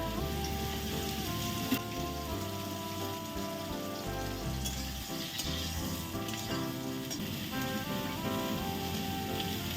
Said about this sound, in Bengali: এবার আমি গরম তেলে দিয়ে ভালো করে একটু ভেজে নেব।